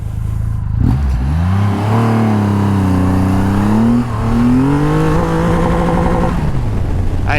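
Hard acceleration from a Triumph Rocket 3 GT motorcycle pulling through one gear on a wet road, the engine pitch rising in long sweeps with a brief dip partway, then falling away at the end; loud and near, no voices.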